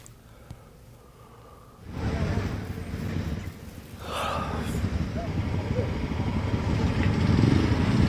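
Motorcycles in a youth bike rally honoring Kargil war martyrs rumble as a loud, steady engine roar that rises after two seconds, with someone talking over the traffic.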